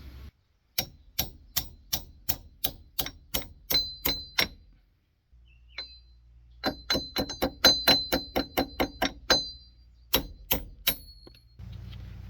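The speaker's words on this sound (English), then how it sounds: "We're going to go ahead and take this cotter pin out and go ahead and get this nut off of the CV axle." Metal tapping on the cotter pin and axle nut of a Dodge Grand Caravan CV axle during a front-end rebuild: a run of sharp, evenly spaced ringing clinks, a brief pause, then another burst of ringing taps, close and clear.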